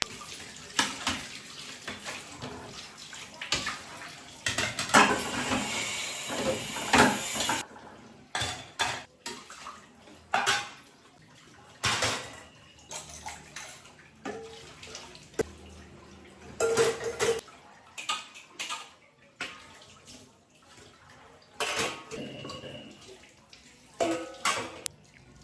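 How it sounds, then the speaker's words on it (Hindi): Tap water runs in bursts while a kitchen sink and dishes are washed and scrubbed with soap, with splashing and clinking of pots and cutlery close by, the flow starting and stopping repeatedly. "सबसे लास्ट में सिंक में सोप लगा के मैंने अच्छे से स्क्रब करके इसको धो लिया है"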